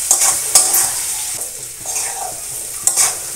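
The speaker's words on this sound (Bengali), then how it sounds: "আলু কষানি হয়ে গেছে মোটামুটি" Potatoes with nigella seeds, salt and turmeric fry in a pan, a steady sizzle broken by several loud scraping stirs of a spatula, close and alone.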